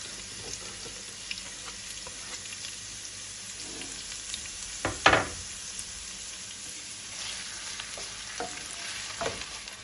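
Chopped onions, two of them, frying in a pan for a lamb chop bhuna, giving a steady low hiss throughout with one brief louder sizzle burst midway and a few faint clinks.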